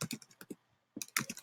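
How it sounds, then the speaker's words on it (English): Close keystrokes on a computer keyboard in two quick bursts with a short quiet gap between them, crisp taps without any talking. "Okay, so now I'm going to type it."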